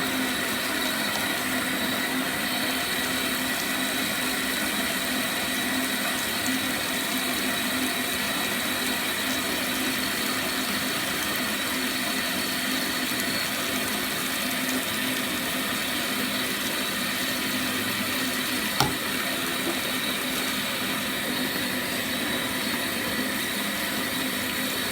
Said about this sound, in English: Turn my water off just a second.